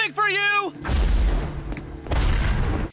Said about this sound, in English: The explosions use a remote detonator.